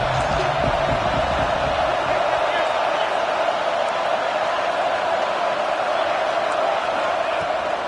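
A football stadium crowd roars in a sustained, even wash of cheering during a big third-down defensive stand in a college game, heard at a distance with no distinct voices on top.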